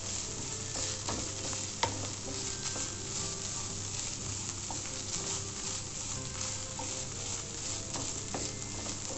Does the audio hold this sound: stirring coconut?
yes